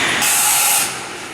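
A Bridgeport VMC3020 hi-speed vertical machining center runs a program at full feed, giving a loud, steady broadband hiss like coolant or air spray that holds for most of a second, then drops to a lower continuous whir.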